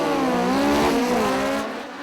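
A Sportsman-class VW Golf drag racing at Santa Pod Raceway during Bug Jam roars loudly at high revs, its engine tone climbing and shifting through gears before fading off at the end.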